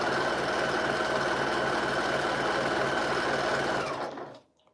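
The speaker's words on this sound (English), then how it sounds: "And so we're going to just sew these up." A domestic sewing machine runs steadily, stitching jelly roll quilt pieces with a fast, even mechanical whir close by for about four seconds before slowing and stopping.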